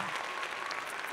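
A studio audience gives a short, brisk burst of clapping that fills the moment, brief and fairly even in loudness.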